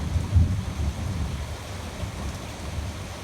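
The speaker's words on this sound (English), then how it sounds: "Yeah, it's still raining. Not heavy, but enough to make everything wet." A steady wash of light rain falls during an afternoon thunderstorm, with a faint low rumble early on and no voices.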